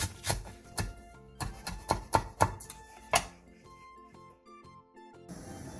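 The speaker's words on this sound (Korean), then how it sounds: "대파 3분의 1개를 길게 반으로 가른 뒤 쫑쫑 썰어주세요." A knife chops green onion on a cutting board in a run of sharp, close knocks, quick and uneven at first, then sparser, with a faint clink near the end.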